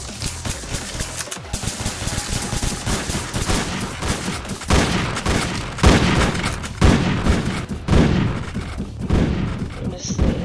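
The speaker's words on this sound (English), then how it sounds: "I'll just shoot until I'm dead, okay?" Rapid gunfire from the Roblox game Entry Point rattles continuously with dense bursts and booms throughout, loud and close.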